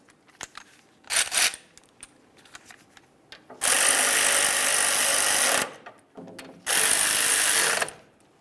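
Power ratchet tightening the two brake caliper slider bolts on a 2002-2005 Ford Explorer rear brake, with two long loud buzzing whirrs of about two and one seconds after a few short clicks and handling knocks.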